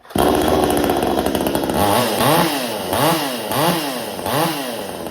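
A VEVOR 62cc chainsaw runs loud and close after carburetor tuning, settling from a fast roar into a rhythmic pattern of repeated engine surges and dips.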